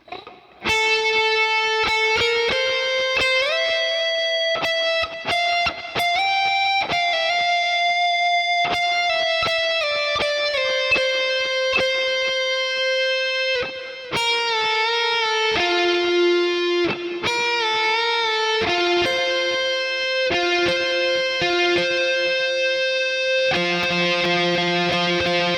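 Electric guitar solo from a pop song, with clean, sustained melodic notes and bends played alone for about twenty-five seconds, loud and close.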